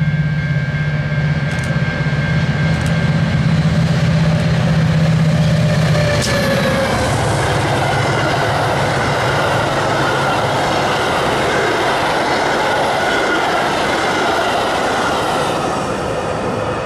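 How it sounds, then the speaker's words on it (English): An express commuter train runs through Arlington Heights on the middle track at about 70 mph, a loud, steady rush of wheels and rail noise that swells throughout, with a brief horn-like tone early on. "Next up is 639, another express run on the middle track, doing every bit of the 70 mile per hour limit through here."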